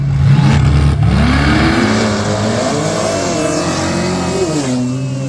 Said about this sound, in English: Ford versus BMW. And here they go.